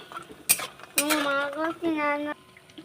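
Clattering utensil clicks and scrapes against a pan as fried lentil dumplings (bori) are lifted out of oil, a few sharp metallic knocks with resonant ringing between them, close and fairly loud, no one talking.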